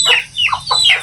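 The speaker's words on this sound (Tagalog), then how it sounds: "nagpakain ng manok." Chickens on a farm cluck at feeding time, four or five short, loud, close calls in quick succession with no talk over them.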